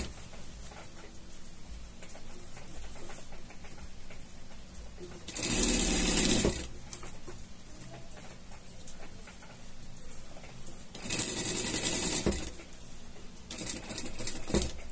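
Sewing machine stitching a pet harness in two short bursts of rapid mechanical chatter, separated by quiet pauses with faint handling, then a brief third start at the end.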